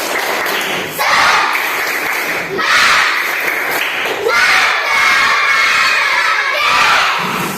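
A classroom of children performs a rhythmic clapping cheer, loud bursts of claps and shouts in repeating patterns with thumps, close and energetic, separated by brief pauses.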